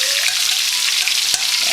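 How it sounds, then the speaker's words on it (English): Boneless pork chops sizzle in hot oil in a pan, giving a dense, continuous crackling hiss up close with a brief sharp tick partway through. "Look at that sizzle. Little sizzle."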